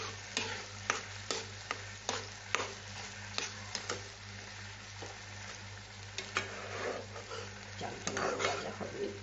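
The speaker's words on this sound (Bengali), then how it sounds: "চালটা ভাজা হবে" Raw rice fries in a pan for hilsa pulao, stirred with a spoon that scrapes and taps the pan in regular strokes over a soft, continuous sizzle.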